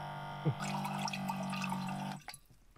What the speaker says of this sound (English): I'm gonna fill it with some water